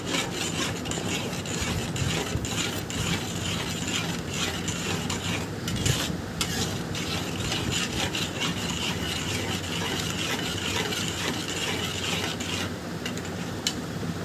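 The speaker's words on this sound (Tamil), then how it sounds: "அதனால் நல்லா கைவிடாமல் கிண்டி எடுத்துக்கலாம்" A thick sweet mixture being stirred continuously in a pan, a dense close scraping and rubbing that carries on steadily without pause and without talk.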